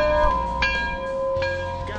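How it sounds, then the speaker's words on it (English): Bell rung at a car dealership during a 2019 Ford F-250 sale, a single bright sustained ring with a long fading tone, loud and close. "Somebody ring the bell!"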